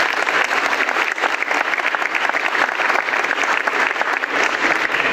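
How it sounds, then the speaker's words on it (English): An audience at a high school junior recognition ceremony breaks into a loud, sustained round of applause, a dense wash of many hands clapping evenly throughout. "So you all deserve an initial round of applause."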